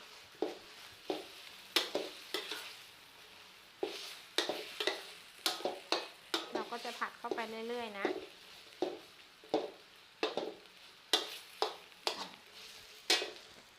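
Pork belly is stir-fried with southern Thai curry paste, a rhythmic run of spatula scrapes and knocks against the pan over a faint sizzle, with brief voice-like sounds in the middle.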